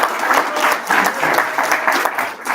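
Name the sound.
audience applause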